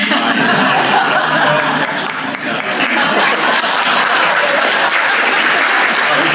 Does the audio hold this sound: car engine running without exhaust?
no